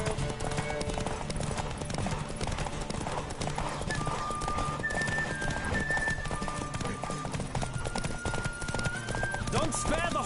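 Rapid hoofbeats of a galloping horse in The Witcher video game pound continuously over a dense background of music and ambient noise, with a horse whinny rising near the end.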